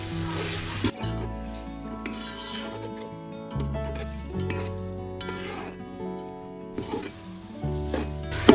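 Chicken feet frying in spices in a pot give a steady sizzle, with stirring scrapes and occasional clinks of a utensil against the pot, close by and without talk.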